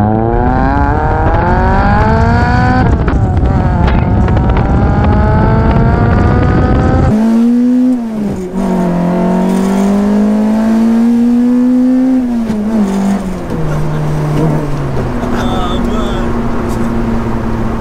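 A tuned 220bhp Peugeot 205 GTI accelerates hard, its engine climbing through rising pitch in loud, sustained pulls with gear changes, heard from inside the car with a voice speaking over it.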